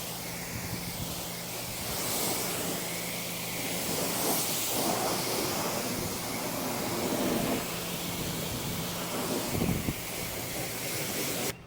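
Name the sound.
rinsing soap off car windshield with water spray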